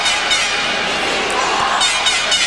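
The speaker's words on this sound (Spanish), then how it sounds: "aquí está Místico recibiendo el aplauso, el cariño de este público" Dense, steady roar of an arena crowd at Arena México greeting masked lucha libre wrestler Místico, a broad wash of cheering and applause with no clear breaks.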